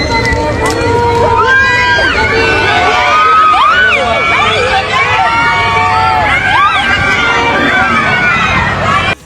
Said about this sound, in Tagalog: At pagbaba pa lang niya ng sasakyan, sigawan ng mga tao.